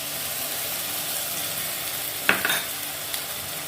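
Steady loud sizzling of onion, ginger and green chilli frying in a pan, with a brief splash and burst of crackle as spice paste goes in.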